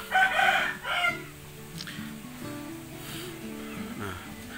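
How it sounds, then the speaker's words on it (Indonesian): Indio Gigante rooster crowing, a loud call at the start followed by a shorter cry, with a lower steady hum of other sounds and faint clucking from the flock behind. "Istimewa ini ayam induk gigante ya."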